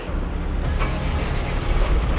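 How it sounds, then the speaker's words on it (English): Engines of trucks and heavy machinery idle and rumble at a busy construction site in Chongqing, China, a steady low drone with a brief hiss partway through, no talk. "You can hear trucks being turned on, engines being going."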